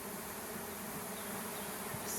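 Agitated honeybees at a hive installation hum in a dense, steady, close buzz with no gaps, and no one speaks.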